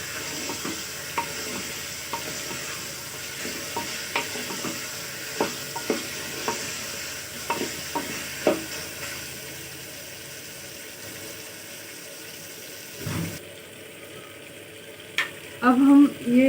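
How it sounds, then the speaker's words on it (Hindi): Mutton frying in a pot with tomato, stirred with a spoon. A soft sizzle runs throughout, with regular scraping strokes and clinks against the pot, then a brief louder rattle of utensils near the end. "अब इसको हम भूनना है, इसको अच्छी तरीके से इसमें भून लेना है।"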